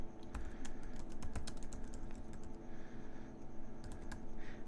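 Code being typed on a computer keyboard, a quick run of close, soft key clicks in uneven bursts against a faint background hum.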